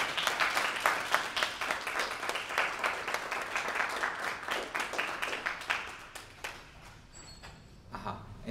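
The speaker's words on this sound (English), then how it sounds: "So let's give them all an applause." Audience applause at a scientific society's spring meeting paper session, dense steady clapping from a room of people that thins and fades toward the end, with faint voices underneath.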